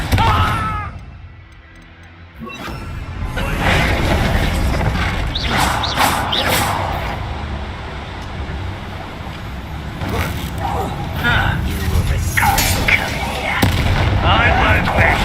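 Confringo blasting spells cast in the game Hogwarts Legacy, heavy booming bursts and rumbling impacts one after another, loud and dense, with voices mixed in.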